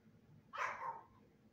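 A dog gives a single short bark, quiet and somewhat distant against a faint, low background hum.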